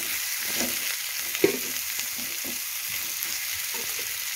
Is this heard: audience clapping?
no